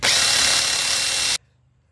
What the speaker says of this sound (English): Now you just slide it over to the B position, lock it in place, and drill it.